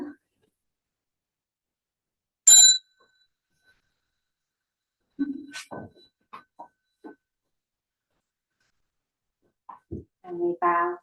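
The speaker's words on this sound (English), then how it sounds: "And a bow when the bell dings" A single bright bell ding rings out during Buddhist prostration practice, short and clear against near silence, followed later by brief talking.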